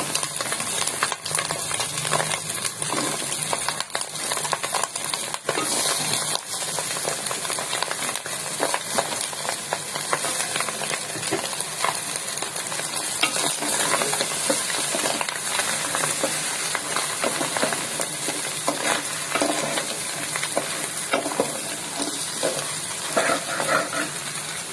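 Papaya, carrot, bitter gourd and capsicum stir-fried in a pan, with a steady bright sizzle and repeated scraping stirs running continuously and close throughout, no voices.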